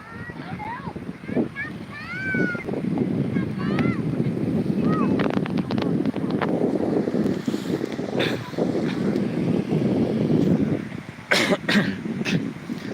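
Wind buffets the microphone on the beach at Sirindhorn Dam (Hat Saen To, Ubon Ratchathani) as a steady, loud rumble throughout, with people talking and a few coughs on top.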